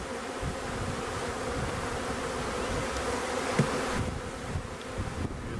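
Honeybees from a package buzz steadily while they are installed into a Langstroth hive. The swarm makes a dense, continuous hum with no speech over it.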